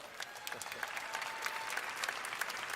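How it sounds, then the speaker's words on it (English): Audience applause at the 2018 Olympia bodybuilding show, a dense steady wash of many hands clapping throughout, fairly distant and even in level. "You can applaud that, that's all right."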